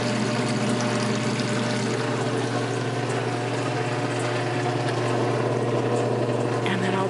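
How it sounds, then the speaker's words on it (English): Water drains through a valve and hose from a 56-year-old working washing machine, a steady, loud rushing and pumping drone that runs unbroken throughout. "I just turn the valve, and the water drains outside."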